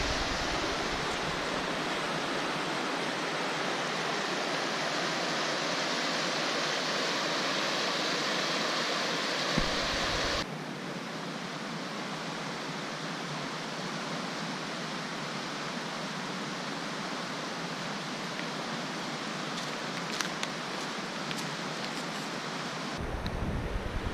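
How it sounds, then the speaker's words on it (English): Steady, loud rush of water at a river ford in the North River Gorge, a continuous broadband roar throughout with no talking, briefly dipping and resuming. "look at that rushing water"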